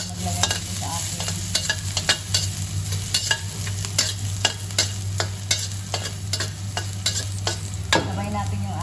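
Garlic frying with ginger in a pan for ginataang langka, stirred repeatedly, giving a rhythmic series of scraping clicks over a continuous sizzle and a low steady hum.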